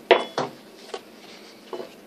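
A metal spoon clinks against a bowl of cotton balls in a few sharp, close taps spread out over a couple of seconds, with quieter handling between them.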